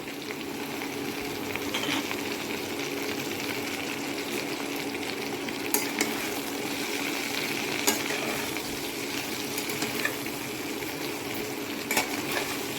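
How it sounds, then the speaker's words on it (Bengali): Jujube (kul) fruit frying and being stirred in hot spiced oil for a pickle, giving a steady, dense sizzle throughout with occasional louder scrapes of stirring, close and alone. "এবার সবটা কুলি আমি ঢেলে দিয়ে দিচ্ছি।"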